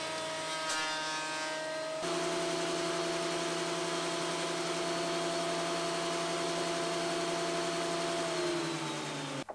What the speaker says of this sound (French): je passe toutes les planches à la raboteuse pour se rapprocher à quelques millimètres près